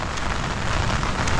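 Monsoon rain pouring at Colva beach in Goa, a dense steady hiss of drops on surfaces that fills the short stretch without break or voices.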